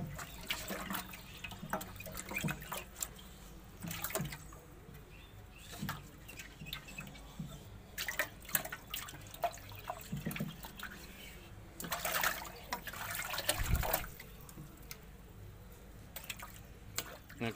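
Water splashes and trickles while a flowerhorn fish tank is rinsed and washed out, with uneven bursts of pouring and dripping close by. Light handling noises sit in between.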